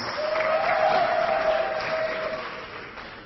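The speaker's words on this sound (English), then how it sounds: "A big, big round of applause," An audience claps for an honoree at an academic awards event, a steady wash of applause that swells and then slowly fades, with a thin sustained tone running through the middle.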